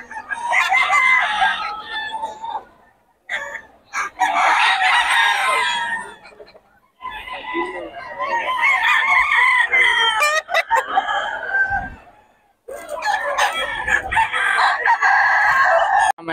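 Gamefowl roosters at a roadside market in Bocaue crow loudly again and again in long, strained calls that overlap, with brief quiet gaps between bursts.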